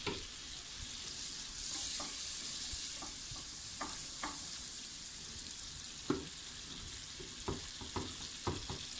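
Steady sizzling of butter in a hot pot while making celery soup, a soft hissing bed broken by scattered clicks and scrapes of a spoon stirring.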